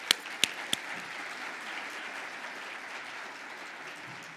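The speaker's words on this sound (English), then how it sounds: "Can you all join me in giving them a hand clap?" Conference audience at a workforce development plenary session applauding the opening panel: a few sharp, close claps stand out at the start, then continuous even applause fills the room.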